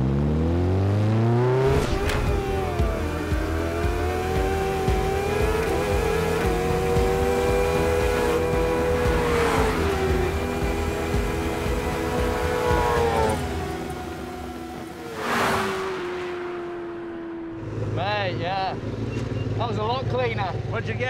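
A souped-up Honda racing lawn mower's engine screams loudly as it accelerates hard, its pitch climbing steadily and holding high for several seconds, then dropping away before a lighter, uneven engine burble near the end.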